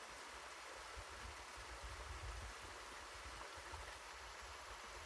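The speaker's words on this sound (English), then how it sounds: "the water in the background and the sound that it's making" Steady rushing water flows evenly in the background, a soft continuous hiss with no other sounds.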